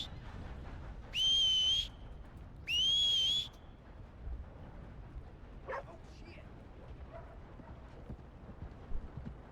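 Two loud, sharp whistles in the Red Dead Redemption II video game calling a horse, followed by faint hoof clops and scattered game sounds, with quiet background and no talk.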